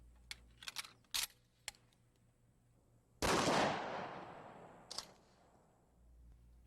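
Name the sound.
shotgun firing number 4 buckshot at armored mannequin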